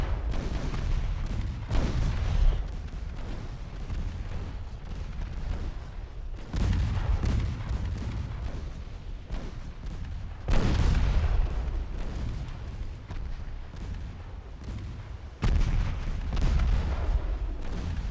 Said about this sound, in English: Torpedo hits on Sibylla.